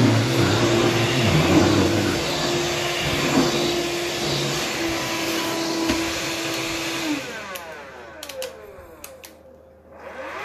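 Vacuum cleaner sucking sawdust off a floor, a loud steady whine with rattling debris that winds down and cuts off near the end, leaving faint clicks.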